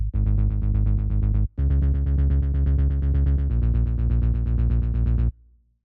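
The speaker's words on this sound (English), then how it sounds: "I've added the same ARP 16th to the bass" Synth bass driven by a 16th-note arpeggiator in a melodic techno track, firing rapid even pulses in a tight, loud stream with a brief gap, shifting pitch midway before cutting off, no talking.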